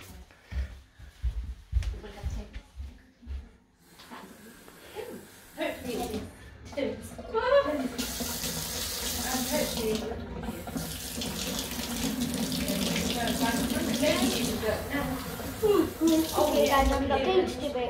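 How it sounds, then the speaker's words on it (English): Tap water runs into a container being filled, starting with clattering handling noises and then a loud, steady gushing stream that lasts to the end, with a few faint voices in the background. "so we're going to fill it up with water."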